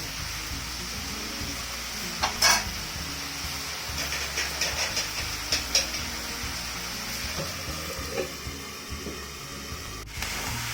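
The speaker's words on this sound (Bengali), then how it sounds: "এইভাবে অল্পটা আমি লাড়াচাড়া কইরা পরে আমি মাংসটা ঢাইতে দিব।" Spices being stirred and frying in a pan for a pigeon curry, a steady sizzling hiss with scraping clicks and taps of a utensil against the pan, fairly close and with no one speaking.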